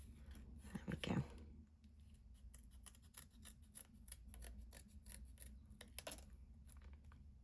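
Scissors snip through paper to cut out leaf shapes for a craft project, a few quiet close crisp cuts with soft rustling between, recorded at very low level.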